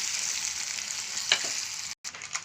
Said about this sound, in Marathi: पत्ता जिरं राई हिंग आणि हळद आता आपला तडका तयार होत आहे